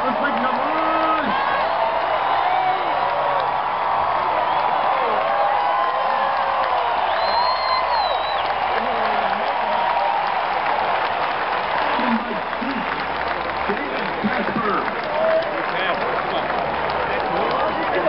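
A large crowd at a college basketball game between Stanford and USC cheers, whoops and applauds steadily, a dense roar of noise with voices mixed in.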